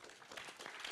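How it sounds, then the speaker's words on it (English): Brief applause at a civic tech summit talk, a soft, somewhat distant patter of clapping hands that swells slightly over a short moment. "A round of applause."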